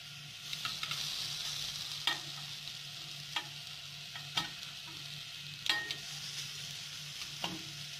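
Tempeh and tofu fritters (bakwan) being turned in a pan without oil, a steady soft sizzle with several sharp scraping clicks of a spatula spaced a few seconds apart.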